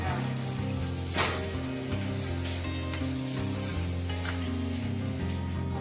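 Paratha frying in oil on a hot pan, a continuous broadband sizzle and crackle with occasional scraping rubs, heard close and steady throughout.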